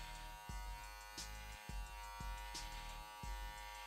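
An electric beard trimmer buzzes steadily up close while cutting a coarse beard, its motor note dipping in a series of repeated strokes as the blade drags through the hair.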